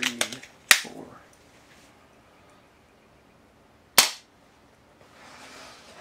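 A pellet gun shoots a toothpick into a board: a few small clicks, then a sharp loud crack, a quiet pause, and a second crisp snap, all close by with no talking.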